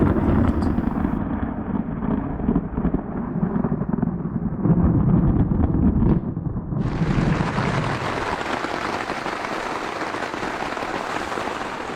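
A violent storm during a canoe expedition in Sweden: a deep, heavy low rumble builds over several seconds, then heavy broadband noise takes over like a sudden downpour and wind.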